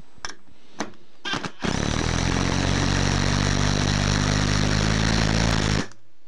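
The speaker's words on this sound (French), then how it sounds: "quand la machine aura besoin de plus de puissance, elle va mettre en route le système de choc hein, qui va donner des petits à-coups assez rapides au niveau de la vis" An impact drill drives a screw into hardwood: a few short trigger bursts, then one sustained, loud, close buzzing run with rapid hammering pulses for about four seconds before it cuts off abruptly.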